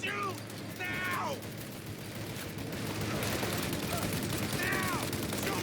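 Enemy machine gun fire in Mafia: Definitive Edition, a dense crackle of bursts running steadily through the clip with brief whistling streaks over it, loud and continuous with short lulls, no voices.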